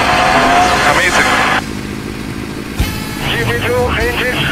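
Kart engines racing in the video game SuperTuxKart, a loud buzzing motor drone that cuts out briefly midway, then returns with rising and falling revving whines.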